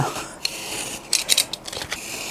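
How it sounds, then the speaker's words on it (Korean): Scissors snip through Korean hanji paper in a quick series of crisp, rustling cuts, close up and quiet, with no talking. "한지 잘라지는 이게 사각 사각하는 소리도 굉장히 듣기 좋은 소리"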